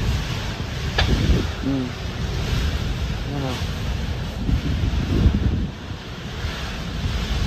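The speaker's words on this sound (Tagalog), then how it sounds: "Grabe lakas talaga ang hangin guys" Strong typhoon wind blasts across the microphone in a continuous loud roar among storm-damaged huts, with surf-like rushing throughout and a brief spoken word partway through.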